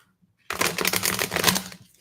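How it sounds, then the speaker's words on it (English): A deck of tarot cards riffled and shuffled up close, a dense flurry of rapid papery flicks lasting over a second after a quiet start. "Let's try to get this deck a little more shuffled."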